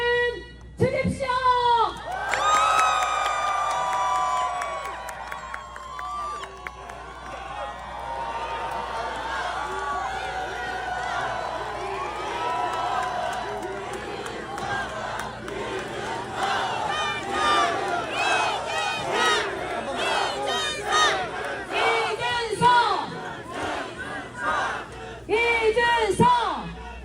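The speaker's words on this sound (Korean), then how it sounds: "큰 박수 함성 지금 주십시오" Large crowd at an outdoor election rally for a candidate in Daegu, roaring cheers, shouts and whoops in a loud sustained swell, with a voice over amplified speakers partly above the noise.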